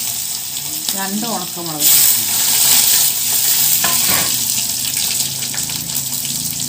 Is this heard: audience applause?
no